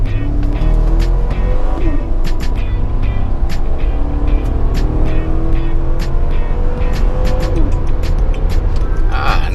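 A 2018 GMC Yukon XL accelerates hard, its engine note rising loud and steady from start to finish, with a high whine climbing over the drone and faint bits of cabin noise.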